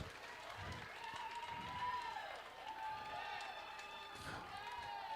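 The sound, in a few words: audience applause after a dance performance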